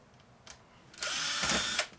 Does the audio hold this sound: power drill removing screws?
yes